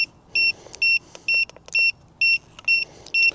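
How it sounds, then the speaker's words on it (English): A faulty photography flash unit emits a repeated electronic beep, about eight short, evenly spaced bright tones in a steady on-off rhythm, close and fairly loud with faint clicks between. "Seems to be doing a very annoying beep though."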